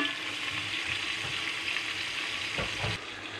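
Drumstick sambar cooking in a covered pot, a steady close bubbling and sizzling hiss throughout with a few soft lid or spoon knocks near the end.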